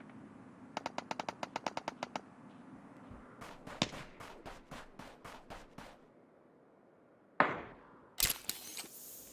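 Gunfire in the battle royale game Ring of Elysium, heard as a rapid burst of about a dozen shots, then a slower string of heavier single shots. Two loud sharp blasts follow after a short pause.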